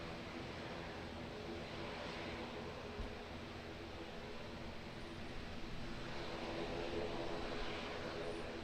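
An Airbus A320 airliner lands at Auckland Airport, its engine roar a steady, broad rumble that holds for several seconds and swells slightly toward the end, with no talk over it.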